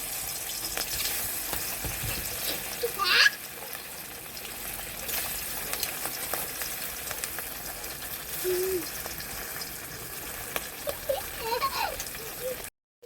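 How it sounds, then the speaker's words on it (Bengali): Silver carp frying in hot oil in a wok makes a continuous soft, hissing sizzle, broken by an occasional brief clatter and faint background sounds. "মাছটা দিয়ে দিচ্ছি কড়াইয়ের মধ্যে, তেলের মধ্যে"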